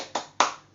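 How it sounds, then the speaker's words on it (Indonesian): Two sharp, close claps land a quarter second apart as primary school children at an Easter service perform the rhythmic tepuk semangat spirit clap, each burst crisp and loud with a short decay. "saya mau mengajak kita untuk tepuk semangat"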